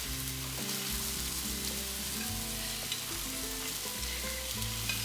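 Shredded coconut tipped into a pan of sweet sauce, frying and sizzling steadily with a constant close crackle, with faint stirring and kitchen clatter throughout.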